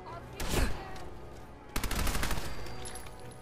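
Gunfire in the video game Fallout 4, with two rapid bursts of shots a moment apart, loud and close, the second burst trailing into a sustained rattle.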